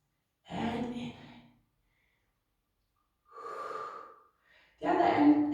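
A woman breathing during a Pilates session: two distinct breath sounds separated by silence, first a strong exhale, then an inhale, and a third breath starting, close and clear with no other sound.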